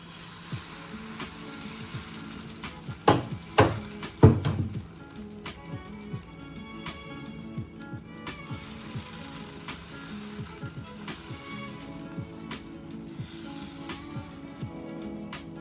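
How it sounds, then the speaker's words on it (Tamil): Roti cooks on a hot iron pan with a little oil, giving a soft, continuous sizzle. Several louder clattering knocks come near the start, then the frying carries on steady and close. "இரும்பு சட்டி சூடானோடனே இதில் கொஞ்சம் எண்ணெய் லேசாக கொஞ்சமாக ஊற்றி சுடணும்"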